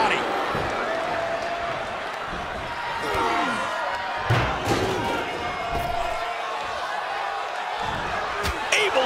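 Arena crowd roaring and cheering during a WWE 2K24 wrestling match, a steady loud wash with slam impacts, under continuous commentary.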